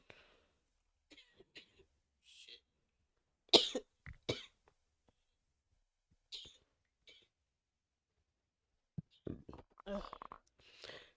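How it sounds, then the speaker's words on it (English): Someone with COVID coughs in scattered, sharp bursts at close range, with throat clearing and faint breathy sounds between long quiet gaps and a cluster of coughs near the end. "I've been coughing non-stop."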